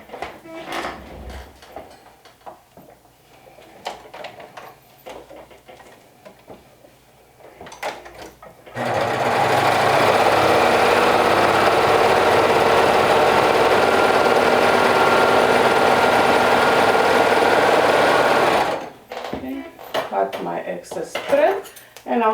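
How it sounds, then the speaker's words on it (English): Sewing machine top stitching a fabric sleeve runs in one steady, loud mechanical whir for about ten seconds, preceded and followed by fabric rustling and handling clatter. "Let me go ahead and top stitch this down towards the bottom part."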